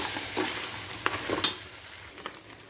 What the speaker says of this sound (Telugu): అల్లం వెల్లుల్లి పేస్ట్ని ఇలా ఫ్రై అయ్యాక ఇందులో చికెన్ ముక్కలు వేయాలి